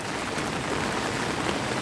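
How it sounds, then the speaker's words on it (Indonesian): Heavy rain pours down in a continuous broad roar of dense drops, steady and loud throughout without pauses or voices. "Hujan-hujan gede."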